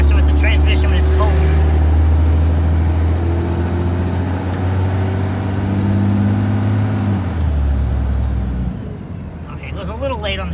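A truck with a 47RE automatic transmission drives with a loud, steady engine drone that drops in pitch as the transmission shifts, with the engine settling into a lower hum heard from inside the cab.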